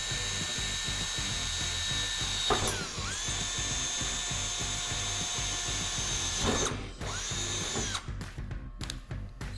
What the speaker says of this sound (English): let's go ahead and get started with our 9/64 drill bit.